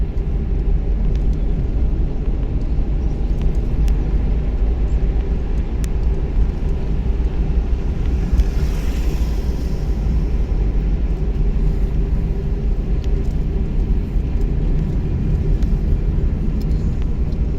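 A car engine runs during a driving lesson as a loud, steady low rumble heard from inside the vehicle. It swells slightly around the middle and then holds an even drone.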